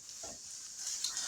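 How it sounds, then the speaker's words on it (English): Hamburger meat cooking in a pan gives a steady, bright sizzle throughout, with a brief soft stirring scrape near the start and no talking. "Once this hamburger meat starts cooking, it cooks fast."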